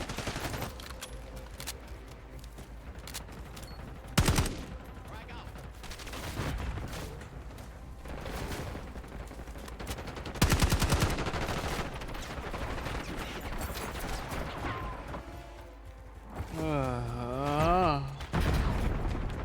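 Gunfire in the Call of Duty video game, bursts of automatic fire and sharp shots recurring across the stretch with loud blasts near the middle, mixed with game sounds while players talk over it.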